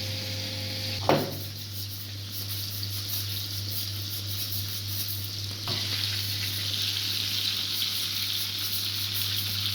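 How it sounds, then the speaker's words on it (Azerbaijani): Rice roasting in a hot pan gives off a steady, close sizzling hiss that fills the whole stretch, broken by a sharp knock near the start and a softer one later on. "Düyümüzü də burada qovururuq."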